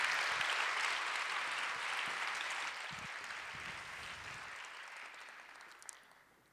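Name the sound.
audience applause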